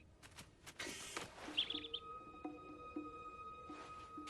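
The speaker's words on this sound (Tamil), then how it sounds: "இங்க இருக்கிற பறவை ஒண்ணு பிஸ்டன்னு கத்துது." A bird in a woodland setting gives quick high chirps and tweets with a short trill, close and fairly faint, over a soft rustling patter.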